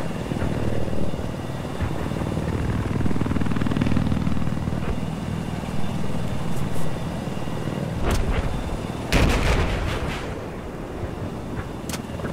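An attack helicopter's steady rotor drone in the video game Battlefield 4 dominates throughout, with a few sharp gunfire bursts cutting through near the end, all loud and close.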